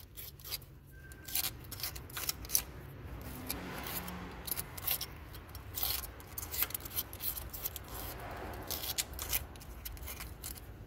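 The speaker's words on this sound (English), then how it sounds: "take the razor blade and gently scrape around the hole." A razor blade scrapes around a paper-plugged hole on a BMW 325i during starter motor replacement, giving a run of short, bright, gritty scratching strokes at close range over a low steady background rumble.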